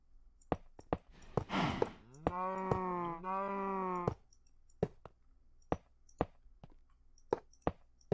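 Cows mooing in modded Minecraft near a multi-mob spawner: two drawn-out, wavering low moos in quick succession, set among sharp, regular game clicks and thuds that keep ticking before and after.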